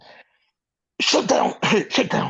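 A person sneezes close to the microphone, a short burst followed after a pause by a cluster of several sharp, forceful sneezing bursts.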